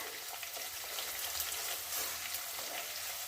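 A dal tempering with three dried red chillies sizzles and crackles in a pan while it is stirred, a faint, steady frying hiss with no voices.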